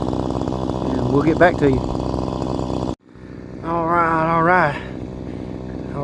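A string trimmer works along a lawn edge, its engine whining loud and close and rising and falling in pitch as it revs, cutting out briefly midway before starting up again, with a voice speaking.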